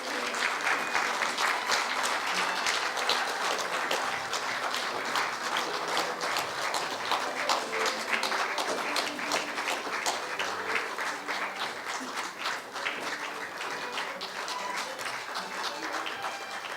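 Loud, sustained applause from a large crowd at a university honorary doctorate ceremony, dense and continuous throughout with no pauses.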